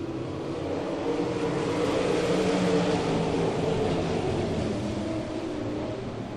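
Winged sprint cars race around the dirt oval at Ohsweken Speedway, their engines merging into a continuous, loud, droning roar that swells slightly and then eases.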